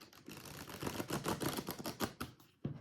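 Deck of cards riffled repeatedly at close range, a dense run of fast crisp flutters and clicks lasting a few seconds, ending in a brief pause and a final soft slap of cards.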